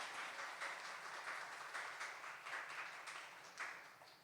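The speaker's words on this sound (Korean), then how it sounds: "디오 오케스트라 분들에게 큰 박수 부탁드릴게요." An audience applauding an orchestra before a Van Gogh-themed concert, a continuous wash of many hands clapping at a moderate distance, steady and then slowly tapering.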